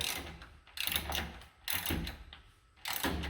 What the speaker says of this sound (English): And now I'm just tightening that anchor. It's expanding inside the concrete.